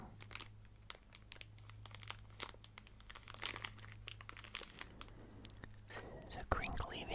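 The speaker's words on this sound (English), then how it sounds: "These are very strange looking candies with crinkly packaging." Crinkly candy wrappers around crunchy Kohakutou crystal candies rustle and crackle in close, quiet bursts throughout, with soft whispering underneath and a louder crinkle near the end.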